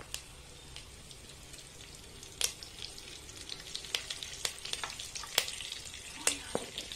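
Curry leaves fry in hot oil with a soft, continuous sizzle and scattered sharp pops and crackles, fairly quiet and close.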